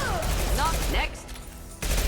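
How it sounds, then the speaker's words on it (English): Impact-shot gunfire in Mass Effect 2 Legendary Edition: a dense burst of loud game weapon fire and effects over the first second, a quieter tail, then another loud hit near the end, with faint voices mixed in. "Firing an impact shot."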